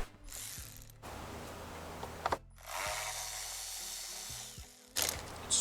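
A ratchet works loose the starter motor bolts on a 2006 Volkswagen Passat 2.0T, with close, crisp pawl clicking in several short runs separated by brief pauses.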